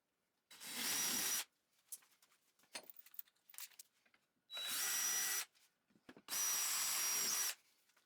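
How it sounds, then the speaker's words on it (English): A power drill bores pilot holes into a wooden bench in three loud whirring bursts of about a second each, separated by quieter handling clatter and scraping. "I pre-drill a shallow hole first with a bigger bit to hide the screws with a dowel after."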